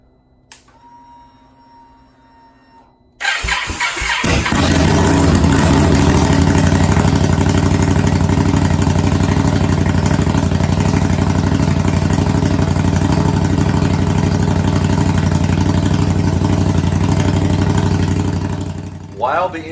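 A Scout engine with a newly installed RPW exhaust cranks and catches after a quiet few seconds. It settles into a loud, steady idle with a throbbing exhaust note close by.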